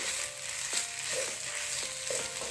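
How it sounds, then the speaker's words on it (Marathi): Grated coconut for barfi being stirred continuously in a pan, giving a steady sizzle with regular scraping strokes of the spoon against the pan, close and alone. "आपल्याला हे कंटिन्युअसली असं परतायचं आहे"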